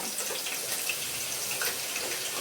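Homemade potato chips fry in hot oil, a dense, even bubbling hiss heard up close and unbroken throughout, with no voices.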